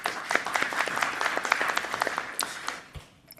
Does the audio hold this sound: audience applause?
yes